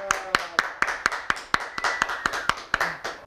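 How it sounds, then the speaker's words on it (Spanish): Applause greets a guest joining the cast of a Spanish-language show: a few hands clap in a sharp, evenly spaced rhythm, each clap distinct and close, with faint tones and a brief voice sound behind them. "Recibamos con un fuerte aplauso al señor Dante"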